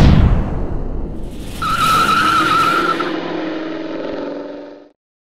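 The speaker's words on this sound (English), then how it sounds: "This is a 400 cubic inch engine package Dorton puts together fo" A 400-cubic-inch V8 runs hard on an engine dyno, fed by either a Holley double-pumper carburetor or custom eight-stack injection, a loud, dense roar that sustains for several seconds and then cuts off abruptly.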